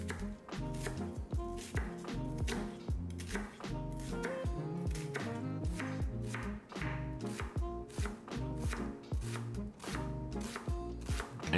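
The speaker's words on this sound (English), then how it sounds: "Then we'll finally dice an onion." A knife dicing an onion on a cutting board for Vietnamese chicken curry, a steady, close run of quick chopping taps that continues without pause and without speech.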